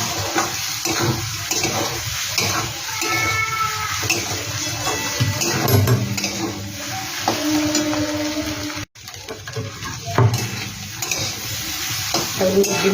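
Egg and chopped vegetables frying in a pan for egg chow mein, with steady sizzling and frequent stirring and scraping throughout, fairly loud and close, with a brief pause near the middle.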